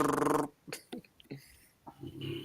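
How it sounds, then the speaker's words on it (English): A pet dog snores in short, rough, irregular snorts and wheezy breaths, several soft pulses spread over a couple of seconds, close by in a quiet room after a brief louder noise. "Ellie's dog, Deborah, snoring."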